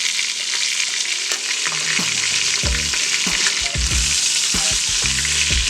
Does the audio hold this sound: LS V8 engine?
no